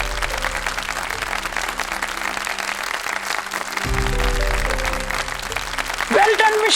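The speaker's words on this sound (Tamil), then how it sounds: "நிலாஞ்சனாவுக்காக பலத்த கைத்தட்டல் கொடுங்க." A crowd bursts into sustained applause for the winner of a dance competition, dense clapping under music, with a voice speaking over it partway through.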